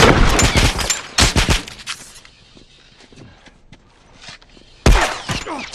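Shotgun fire in The Last of Us multiplayer comes as loud, close blasts in quick clusters, with a lull of scattered clatter before another heavy burst of shots.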